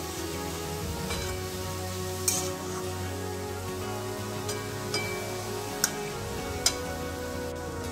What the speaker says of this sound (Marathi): बघा, आता गाजरचा हलवा छान परतत आलेला आहे